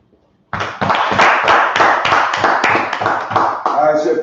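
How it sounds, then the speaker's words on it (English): A small group claps in a steady rhythm at a brotherhood class gathering in Harlem, New York. The claps are close and loud, keeping a regular beat for several seconds before fading at the end. "Clap it up one more time."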